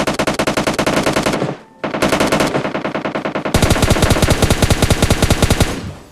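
Automatic gunfire in the video game PUBG Lite comes as loud, rapid bursts of evenly spaced shots, with a short pause before a longer, heavier burst.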